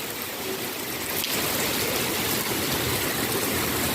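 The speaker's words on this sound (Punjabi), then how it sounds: "1 ਅਗਸਤ ਨੂੰ ਆਪਣੇ ਮੀਂਹ ਆ ਜਿਹੜਾ ਪਹਿਲਾ ਪਿਆ ਹੈਗਾ ਅੱਜ" Steady rain falls in a constant, dense hiss, even and unbroken throughout, with no voices.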